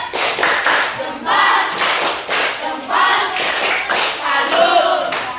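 A classroom of schoolchildren claps together in several bursts of salute clapping, loud and close, with brief pauses between rounds and some voices mixed in.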